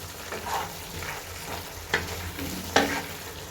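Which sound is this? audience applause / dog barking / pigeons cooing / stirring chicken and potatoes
stirring chicken and potatoes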